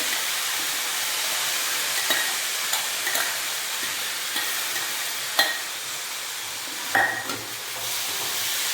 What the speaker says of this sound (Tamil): நல்லா சேர்த்து கலந்துட்டு